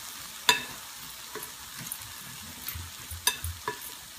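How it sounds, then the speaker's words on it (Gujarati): Vegetables for fish tacos being stirred in a bowl, with scattered soft scrapes and clicks of a utensil at close range, fairly quiet, with no talking. "આપણે બધું એને હલાવી નાખશું ફાઇન રીતે"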